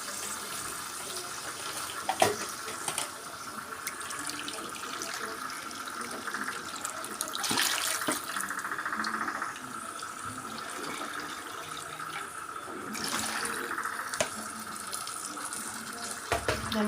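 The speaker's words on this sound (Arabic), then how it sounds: "هنزل بقى بالميه بتاعتي" Tap water runs steadily into a cooking pot for pasta, a continuous faint splashing stream with a few small clunks, no talking.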